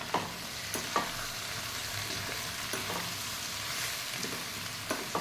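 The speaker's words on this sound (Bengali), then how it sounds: "মশলাটা ভালো করে কষে নেব।" Spice paste of ground ginger, chili, cumin and turmeric stir-fried in oil for a taro curry, a steady close sizzle with occasional spatula scrapes and clicks throughout.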